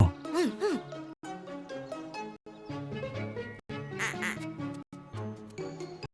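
A duck quacks repeatedly in short nasal calls over a bright musical background, with brief pauses between the sounds.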